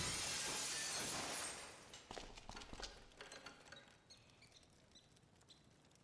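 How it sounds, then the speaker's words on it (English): Glass smashed with a crowbar in the video game Dead Synchronicity, muffled by a seat cover: a loud, sustained crunch and shatter up front, then scattered small tinkling fragments falling and settling. "let's cross our fingers that the seat cover absorbs the noise of the breaking glass"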